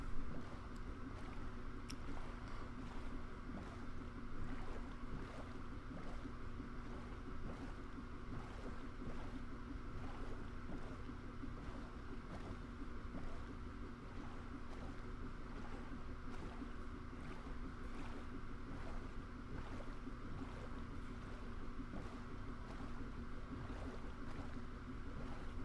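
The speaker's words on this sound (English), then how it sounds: "let's get back to sailing" A boat moves across the water in Minecraft with a steady, even churning wash and a low rumble, faint and continuous with no breaks.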